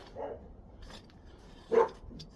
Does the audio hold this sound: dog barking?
yes